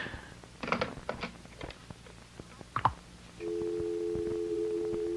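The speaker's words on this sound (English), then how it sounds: "There's no one on the line. It's just a dial tone." In an old-time radio drama, faint clicks and rustles give way to a steady, continuous telephone dial tone that holds at low volume to the end.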